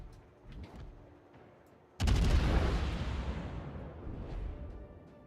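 Torpedo hits exploding on a warship in World of Warships: a sudden heavy boom with a long rumbling decay over several seconds, loud and close, following quieter distant gunfire.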